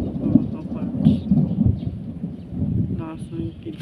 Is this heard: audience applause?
no